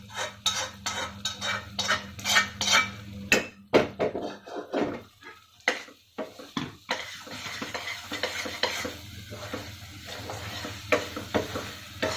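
A spoon stirs a thick Chettinad ukkarai sweet with roasted cashew, badam and cardamom in a pan, giving repeated close scraping and clinking strokes in an uneven rhythm, with short pauses and a faint sizzle underneath.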